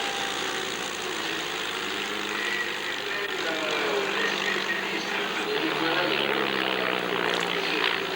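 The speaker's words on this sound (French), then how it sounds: "Bel avion, c'est un Clem." A vintage Swiss Klemm propeller airplane flies at the La Ferté-Alais airshow in 1989, its engine a steady droning hum with broad wind-like noise that holds throughout, under a commentator talking.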